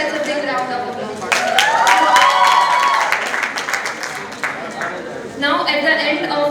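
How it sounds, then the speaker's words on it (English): A graduation convocation crowd claps in a dense burst of applause that swells and then thins, with voices and cheers mixed through the clapping. "So let's give ourselves a big round of applause"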